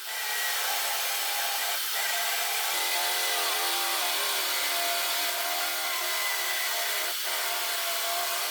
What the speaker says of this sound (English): and I drill the hole for the cap of the hinges.